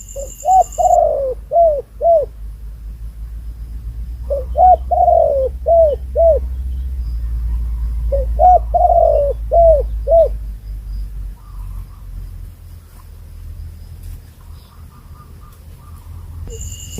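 Dove cooing in repeated phrases of several rounded notes, three bursts spaced a few seconds apart, close and clear over a low steady rumble; a lure spot used to call back a bird.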